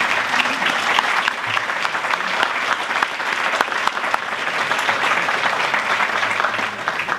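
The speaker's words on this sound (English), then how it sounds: "Please give a round of applause to all of the finalists." Audience applause at a state energy excellence awards ceremony honoring the finalists, a dense, steady wash of clapping from a large indoor crowd that fills the whole stretch without letting up.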